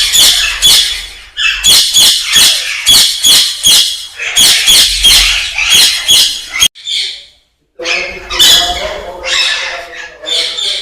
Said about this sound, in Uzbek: Bu yoqda ham juda chiroyli qushlar bor.